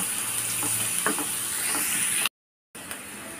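Green chillies and garlic fry in a pan with a loud, continuous sizzle and occasional stirring clinks, broken by a brief moment of silence.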